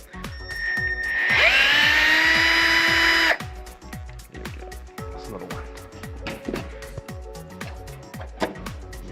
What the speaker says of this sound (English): Right now we are removing the top shock mount bolt.